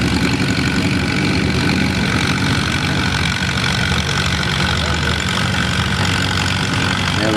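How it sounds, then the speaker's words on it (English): An Alabama-style Allis-Chalmers WC tractor engine runs loud and steady at a tractor pull, a continuous heavy rumble with no break across the clip and no talk over it. "she's putting that WC down the track"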